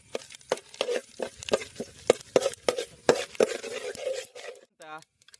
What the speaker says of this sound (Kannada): ಎಲ್ಲ ಒಟ್ಟಿ ಹಾಕಿ ಹಾಕಿ ಮಾಡಿ ಒಗ್ಗರಣೆ ಹಾಕುವ